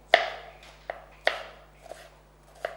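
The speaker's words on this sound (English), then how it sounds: "I'm going to take a shallot and just going to cut it thinly, slices very thinly" Kitchen knife slicing a shallot thinly on a cutting board, three sharp chops with lighter taps between them, close and distinct, with no voice over them.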